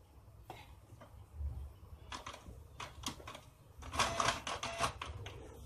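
A Canon IP2770 inkjet printer runs through a print job, with mechanical clacks and rattling bursts of paper feed and carriage movement, building to a denser, louder run of clattering near the end.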